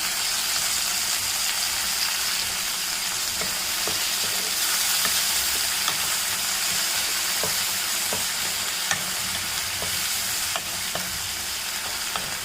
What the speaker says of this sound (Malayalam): രണ്ട് ചെറിയ രണ്ട് തക്കാളി അരിഞ്ഞത് ഇതും കൂടി ഇട്ടൊന്ന് വഴറ്റാം നന്നായിട്ട്